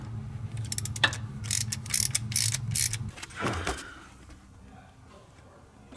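Socket wrench with a 6 mm socket ratcheting on a turbo of an RB26DETT twin-turbo engine in a Nissan Skyline GT-R, a brief burst of quick close clicking followed by quieter handling noises and low room hum.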